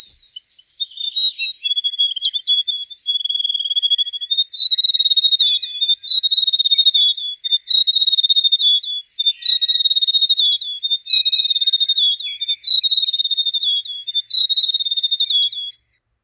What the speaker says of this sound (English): I'll play the song shown in the upper spectrogram so you can hear what a grey warbler sounds like